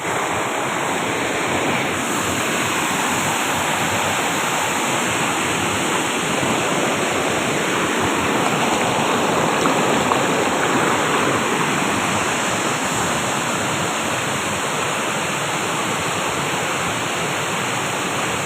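A stream of cold water rushing over rocks along a stony path, producing a loud, continuous broadband roar with no voices.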